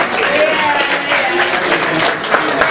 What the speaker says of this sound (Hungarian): Egy tapsot kérünk!